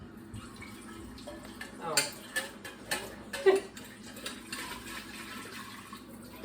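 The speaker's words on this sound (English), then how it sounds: "now I'm going to start off by rinsing everything off" Water runs from a tap onto milk-handling equipment being rinsed, on a well supply with weak pressure, with splashing, clinks and knocks of the items under the stream and a brief spoken exclamation.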